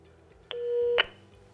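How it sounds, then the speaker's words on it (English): A Polycom desk phone rings once during a radio interoperability call demo, a short steady electronic tone of about half a second with sharp onset and cutoff, heard alone over faint background noise. "see our Polycom phone is now ringing."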